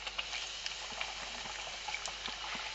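Pieces of khvorost dough fry in hot oil in a pan, giving a steady, fairly quiet sizzling hiss with small popping crackles throughout.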